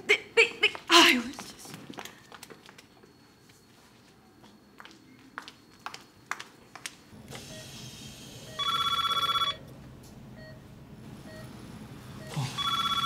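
A telephone rings in short electronic bursts, two or three times, amid scattered clicks, knocks and handling noise in an otherwise quiet room.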